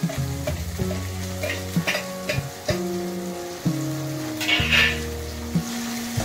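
Crushed green chillies sizzle steadily in a hot pan with a few scraping stirs, close and fairly loud, while steady musical tones hum underneath.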